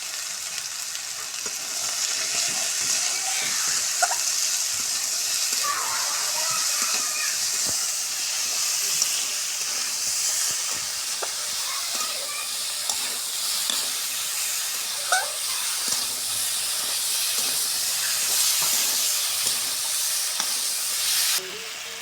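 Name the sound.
potatoes frying and steaming in a pan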